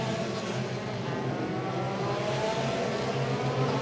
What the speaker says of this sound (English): last few cars crossing the line